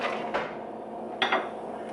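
Shrimp, coleslaw and Trader Joe's broccoli slaw are mixed together in a bowl. A couple of faint, brief utensil clinks against the bowl stand out over quiet kitchen background.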